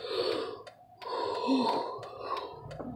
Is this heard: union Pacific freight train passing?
no